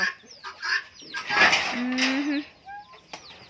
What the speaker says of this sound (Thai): เบิ่งไก่เพิ่นเนาะ